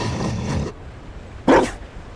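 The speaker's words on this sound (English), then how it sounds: "You found a dog." A Mabari war dog in the fantasy game Dragon Age Inquisition gives a single short, sharp bark. The bark stands out clearly after a stretch of low background sound.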